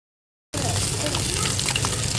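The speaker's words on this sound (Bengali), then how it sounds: "তো এখন আমি পুঁটি মাছটা ভেজে নিচ্ছি।" Small puti fish (barb) fry in a pan, a loud, steady, hissing sizzle that cuts in abruptly after half a second of silence and carries on unbroken.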